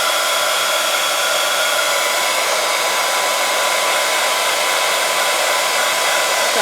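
Heat tool blasting hot air onto craft mousse, a loud, continuous, even whoosh of blower noise that holds steady from start to finish with no talking.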